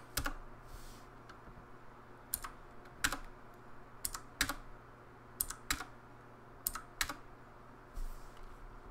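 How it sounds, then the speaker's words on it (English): Keystrokes on a computer keyboard as a text command is typed into a MUD game, heard as short bursts of close, crisp clicks in irregular clusters over a faint steady background hum, with no talking. "I'm just gonna go ahead and type "eat pastry.""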